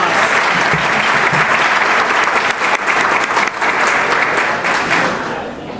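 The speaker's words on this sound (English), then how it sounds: "Let's send them back to school with one more round of applause." An audience at an awards breakfast claps in a long, dense round of applause, loud and continuous throughout before tapering off slightly at the end.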